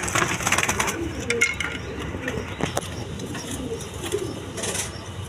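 Domestic pigeons kept in pairs for sale coo and rustle close by, soft repeated calls with occasional clicks and flutters over a low background hum.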